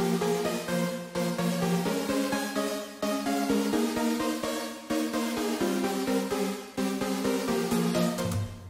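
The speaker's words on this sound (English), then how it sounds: "I made a normal Sylenth patch." A basic Supersaw synth patch in Sylenth plays a bright, buzzy sustained chord progression, each chord held a second or two with sharp changes, loud and steady with no voices.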